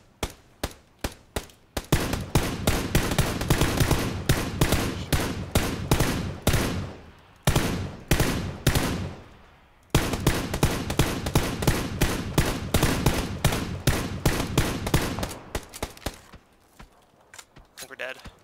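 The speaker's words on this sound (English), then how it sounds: "Other people were taking shots at him." Repeated gunshots ring out in an online shooter game, loud sharp bursts in rapid rhythmic strings with a couple of brief pauses, sounding close and dominating the scene.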